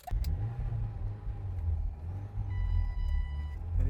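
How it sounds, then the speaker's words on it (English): Old Ford Escort, driven for the first time in twenty years, idling as it warms up: a low, steady engine rumble that swells slightly, with a faint high whine near the end. "The car's starting to warm up."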